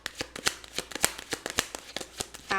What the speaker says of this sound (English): We're going to pull some tarot cards and then some oracle cards to top it off.